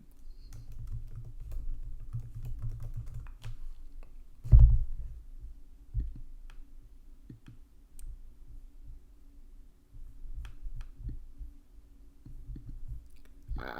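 Typing on a computer keyboard close by, with irregular bursts of soft key clicks and a few heavier thumps, no talk.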